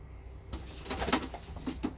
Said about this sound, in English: It's a noise that I associate with a bird who's been surprised.